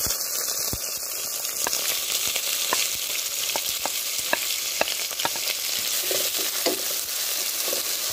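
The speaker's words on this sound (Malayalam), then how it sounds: "ഇച്ചിരി കറി ലീവ്സ് ഇട്ട് കൊടുക്കാം, അപ്പോൾ നമ്മൾ എടുത്ത് വെച്ചിട്ടുള്ള സവോളങ്ങൾ ഇട്ട് കൊടുക്കാം." Onions and curry leaves frying in a pan for masala bread, a steady close sizzle with scattered crackles and light stirring clicks throughout, no voices.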